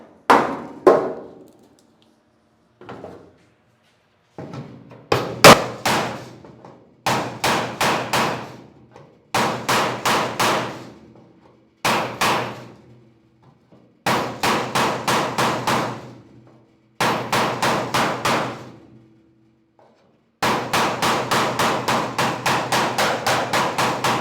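Hammer blows struck through a tool onto the roof panel of a 21-window VW Bus under restoration ring out in sharp, close bursts of rapid repeated strikes separated by short pauses.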